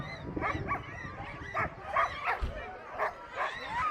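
Sled dogs at a Tok, Alaska eight-dog race bark and yip in short, uneven bursts, some close and some farther off, over an outdoor background with faint voices nearby.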